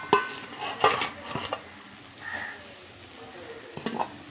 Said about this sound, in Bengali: এই যে দিদিভাই বড়াগুলো তুলছে